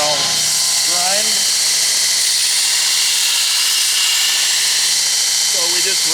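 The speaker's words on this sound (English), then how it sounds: "And I've got a piece of metal here that I'll grind." A knife maker's belt sander running at 5,000 feet per minute grinds a piece of metal, giving a continuous loud hissing, whining abrasion, with someone talking briefly at the start and the end.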